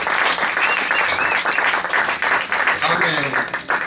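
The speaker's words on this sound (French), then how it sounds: "Est-ce qu'on peut acclamer très fort pour la gloire de Dieu?" A church congregation at the close of a seven-day fast and prayer service bursts into loud, sustained applause and cheering, dense clapping filling the room with voices shouting over it throughout.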